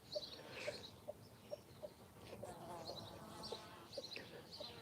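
A rooster gives a rapid, repeated low clucking food call, fairly quiet, with faint chirps and background noise around it on a farm.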